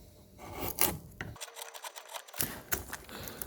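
A chisel pares pine along the grain with short rasping, scraping strokes, close and fairly loud, broken by one brief pause partway through.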